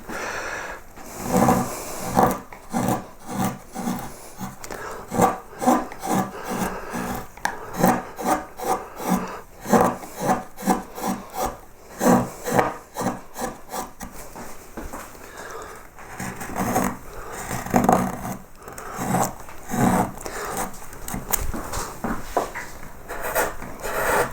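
A carving tool slices across wood while refining a carved fleur-de-lis. Close, rhythmic scraping strokes repeat steadily, each one a short rasping cut, with no talking.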